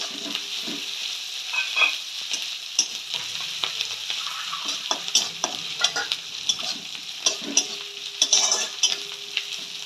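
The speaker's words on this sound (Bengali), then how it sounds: "আদাটা দিয়েও একটু ভাজা ভাজা করে নিতে হবে" Ginger paste frying in a pan for a prawn curry with potato, radish and eggplant, a steady close sizzle with frequent scraping stirs and clinks running throughout, no talking.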